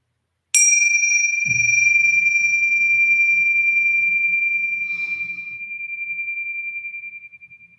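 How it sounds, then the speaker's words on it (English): A meditation bell struck once at the close of a short body scan meditation, ringing out clearly and then sustaining a long, slowly fading metallic tone with a faint low hum beneath, alone without voices. "the sounding of the bell will bring to a close to this short body scan meditation"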